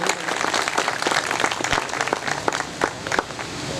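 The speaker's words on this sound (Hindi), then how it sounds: "तरीके से ताली होनी चाहिए।" An audience claps at a workshop inauguration in Sukkur, a dense, loud burst of applause from a hall full of people lasting a few seconds.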